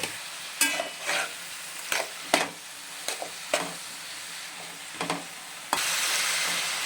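Onions being stir-fried with green chillies and salt in a pan: a steady sizzle punctuated by repeated scraping strokes of a spatula, then a louder hiss rising near the end.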